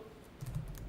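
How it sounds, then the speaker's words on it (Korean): A single key press on a computer keyboard, the Tab key, during accounting data entry, heard as a quiet, close click with faint room noise and no voice. "탭키 눌러서"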